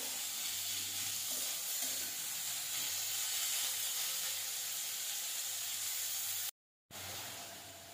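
Onions frying lightly in a kadai, a steady close sizzle that holds unbroken for several seconds before a short silent gap, then resumes.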